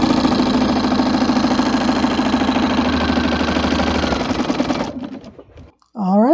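A sewing machine fitted with a walking foot quilts fabric in a loud, steady mechanical hum that runs off the edge and stops, followed by a brief voice.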